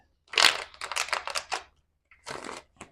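Several quick bursts of riffling and shuffling tarot cards, close by, with a short pause before a final flurry; no talking.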